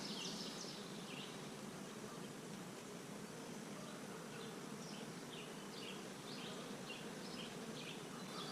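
A steady, dense hum of many honeybees buzzing together in an open hive, continuous and close, with faint high chirps scattered over it.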